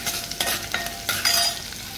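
Green chillies fry in oil in a pan over a gas flame, giving a steady close sizzle broken by scraping stirs of a spoon against the pan.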